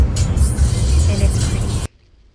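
A car driving through Spanish Town, Jamaica, with a loud, close road rumble and engine noise that cuts off abruptly near the end while a voice talks over it.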